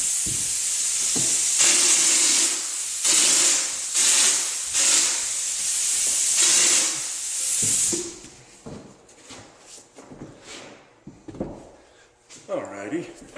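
A texture gun sprays wall texture in a run of loud hissing bursts with short gaps between them, then stops, leaving quieter handling noises and a person talking.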